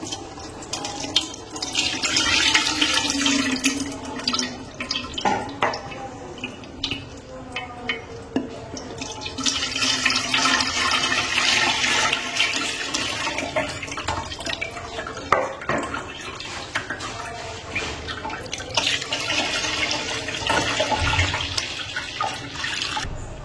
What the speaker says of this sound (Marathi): त्याच्यावर ही सुजीची चाळणी ठेवायची आहे आणि त्याच्यावर ते पुन्हा आपण गाळून घेणार आहे.